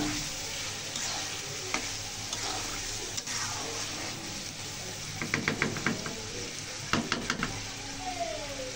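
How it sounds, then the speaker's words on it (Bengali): Snakehead fish cooks with onions in a pan under a steady, close frying sizzle, with a spoon stirring and scraping in repeated sharp clinks, mostly toward the end. "শোল মাছ পেঁয়াজ দিয়ে ভুনা করব।"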